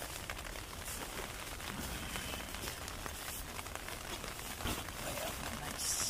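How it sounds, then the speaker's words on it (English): Rain patters and crackles steadily on a tent during a backpacking trip on the Brazeau Loop in Jasper, a quiet, continuous dense pattering with occasional sharper drops. "you can hear the rain"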